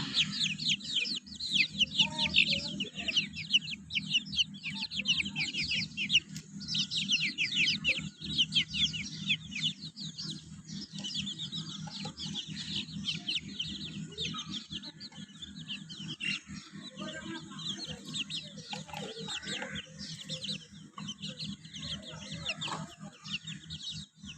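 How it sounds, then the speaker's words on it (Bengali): A dense, continuous chorus of high chirps from many Tiger breed chicks peeping close by on a desi chicken farm, with a steady low hum beneath and no talking. "আমার টাইগার মুরগির বাচ্চাগুলো দেখাই আপনাদেরকে।"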